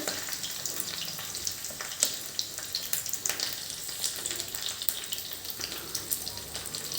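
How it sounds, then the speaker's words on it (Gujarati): Mustard seeds and a cut green chilli splutter in hot oil, a steady crackling sizzle with sharp little pops scattered throughout, close and continuous with no talking. "હવે રાઈને આપણે તતડવા દેવાની છે"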